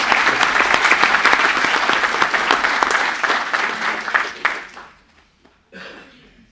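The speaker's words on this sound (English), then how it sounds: "Let's give them another hand of applause." Audience members at a city council meeting applaud loudly for several seconds, then the clapping tapers off into a near-silent room with a brief stray noise at the end.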